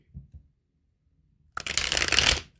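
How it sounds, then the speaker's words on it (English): A deck of tarot cards is shuffled up close, a bright, crisp burst of papery riffling lasting about a second, preceded by a couple of soft low taps and quiet. "One more shuffle here, and then we will get started."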